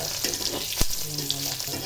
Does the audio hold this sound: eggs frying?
yes